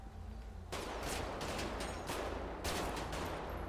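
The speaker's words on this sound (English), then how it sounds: "Shots fired." Gunfire in the video game GTA V: after a quiet start, a sustained loud burst of rapid shots with several distinct cracks, dense and fairly close, without speech.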